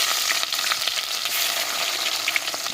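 Chopped garlic dropped into hot oil in a pan, giving a loud, continuous sizzle with a bright crackle that stays even from start to finish.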